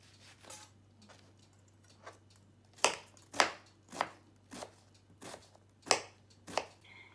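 A knife chops onion into very small pieces on a board, with about a dozen crisp, close knocks in an uneven rhythm and nothing else around them.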